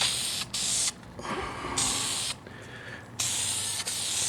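A paint sprayer coats Dio scooter parts in loud, close bursts of hissing spray, several separate passes starting and stopping with short gaps between them.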